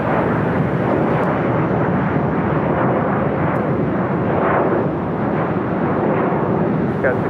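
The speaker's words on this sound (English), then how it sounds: "Korean Air A380 Super seems to be just a little high." A Korean Air Airbus A380 jet at LAX gives a loud, steady broadband roar of engine noise that holds evenly throughout, with no voices heard.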